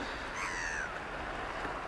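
A gull on Lake Constance gives a single short, harsh cry at a distance, faint over a steady background of lakeside noise.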